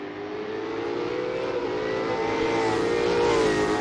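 A race car engine from the Assetto Corsa video game drones at high revs, a steady, loud whine that climbs slightly in pitch over a few seconds with no talk.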